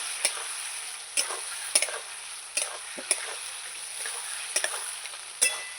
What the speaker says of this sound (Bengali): এই জলটা দিয়ে দেবো দিয়ে ভালো করে আমি কষাবো